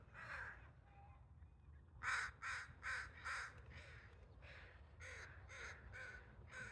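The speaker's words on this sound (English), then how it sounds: "Crows are taking over the eagle tree." Crows caw from a tree outdoors, a series of about eight harsh rhythmic caws in a quick run over a low, steady background rumble, fairly distant and with no voices.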